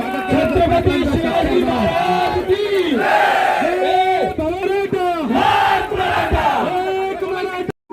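A large rally crowd in Nashik greets Manoj Jarange Patil's arrival with loud, continuous chanting and shouting close by, the voices rising and falling in rhythmic waves throughout.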